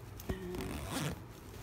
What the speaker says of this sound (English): And it actually zips up too, which is good.